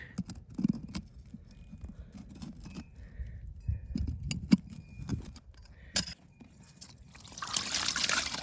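Water drains out of a sprinkler irrigation system's main valve during winterizing, trickling and splashing in uneven spurts with clinks and handling noises, building to a louder hiss near the end.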